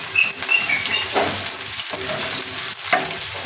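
Cloves and cumin seeds fry in hot oil in a pan for vegetable pulao, a steady close sizzle broken by brief stirring scrapes and crackles.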